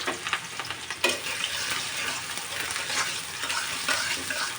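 Chopped onion drops into hot soybean oil for a Barisal-style snakehead fish bhuna, starting with a sharp burst of sizzling that settles into a steady crackling fry with occasional stirring.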